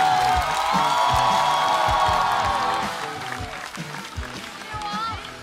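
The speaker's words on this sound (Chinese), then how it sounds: "掌声！" Studio audience at a stand-up comedy show breaks into loud sustained applause with whoops and cheering, then tapers off as a voice begins talking over the fading clapping.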